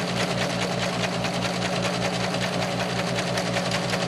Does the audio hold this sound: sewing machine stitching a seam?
yes